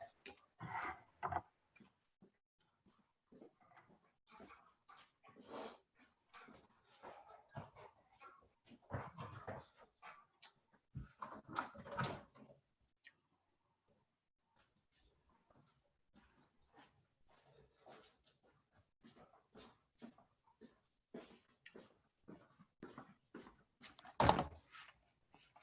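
A pet dog let out through a household door: faint scattered thumps, clatter and soft dog sounds spread across a quiet room, ending in one louder sharp bang near the end.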